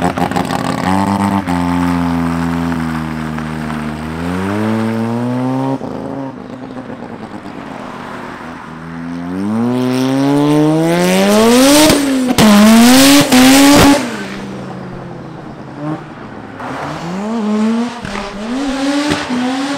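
A 500 hp Mazda RX-7 FD rotary revs and accelerates hard on a street, its engine note climbing repeatedly through the gears, very loud and close, with tire squeal and brief bursts of wind buffeting.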